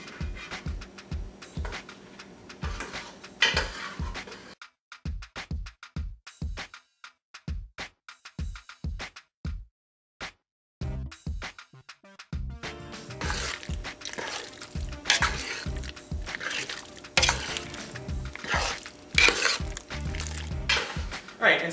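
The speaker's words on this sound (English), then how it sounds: "add it slowly and stir gently so you don't break the pasta" Pasta being stirred into a thick sour cream mac and cheese sauce with apple and sausage, giving soft wet scraping and clinks of a utensil against a pot, broken by pauses and short taps, under a quiet kitchen background.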